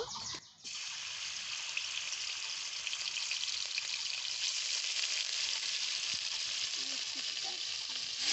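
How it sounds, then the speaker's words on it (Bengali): Paneer pieces frying in a little oil in a wok give a steady, close sizzle that runs from start to finish after a brief soft stir at the start. "হালকা নাড়াচাড়া করে ভেজে নেব আমি এই পনিরগুলোকে"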